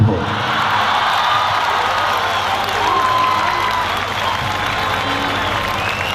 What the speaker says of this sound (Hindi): मेरा जवाब सुनने के बाद देश के लिए ताली बजाना